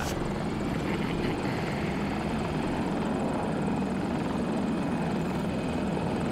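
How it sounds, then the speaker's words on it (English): Steady, loud helicopter rotor and turbine roar from a chopper in the video game Battlefield 2042, a dense continuous drone with faint rhythmic blade chop throughout, close and alone with no voices. "Alright, I'm in a chopper."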